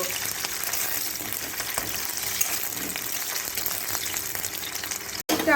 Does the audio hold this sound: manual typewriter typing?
no